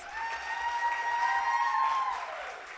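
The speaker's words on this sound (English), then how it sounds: "A round of applause for Ruele, please." Applause ripples through the audience at a youth HIV advocacy panel session, moderately loud and steady for a few seconds, with a sustained ringing tone running through the clapping.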